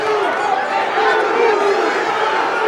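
A Paulsboro high school wrestling crowd at a dual meet against Collingswood roars steadily and loudly as it calls for a takedown, a dense wash of cheering and shouting voices that lasts throughout.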